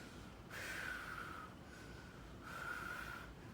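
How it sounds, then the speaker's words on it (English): Two long, audible breaths, a person drawing in air deeply, each lasting about a second, close and fairly soft against a quiet room. "take a deep breath"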